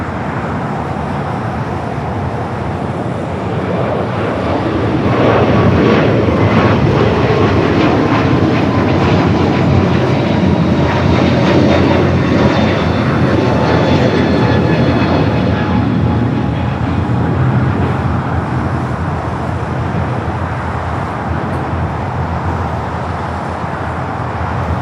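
Airliner jet engines at Los Angeles LAX airport give a steady, broad roar that swells for several seconds near the middle and then eases back. The roar is heard from some distance across the field, with no talk.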